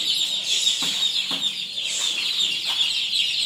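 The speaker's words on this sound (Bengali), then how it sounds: "তো দেখতে পাচ্ছেন আমরা মুরগিগুলা একটু লাড়াচাড়া করে যাচ্ছি" Chickens cluck and squawk nearby as they are stirred and moved about in their enclosure, a busy overlapping chorus with a few sharper calls breaking through.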